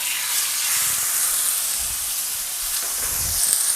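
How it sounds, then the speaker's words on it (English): Food sizzles steadily in a hot frying pan, a bright continuous hiss with faint crackles, no voices. "That sizzle is awesome."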